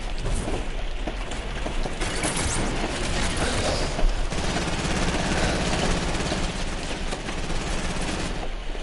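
Sustained enemy gunfire in a video game, a continuous dense rattle of shots at steady loudness with a sharp thump partway through.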